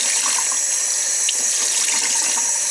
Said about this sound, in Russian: Сначала губку смываю, потом набираю губку воды и смываю вот так вот, с самого кранчика.